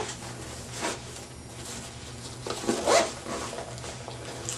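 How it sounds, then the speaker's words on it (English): A zipper is pulled open on a clam-style medic pouch with cut pull tabs replaced by paracord, giving two close, raspy zipping strokes, the second longer and louder, with no talking. "The zippers open all the way to the webbing in the bottom."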